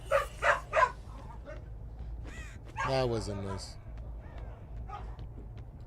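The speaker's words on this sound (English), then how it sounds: "my dogs go a little crazy when it's walk time" Several dogs bark excitedly in quick succession just before walk time, loud and close, then give way to a person talking over game sounds and a steady background hum.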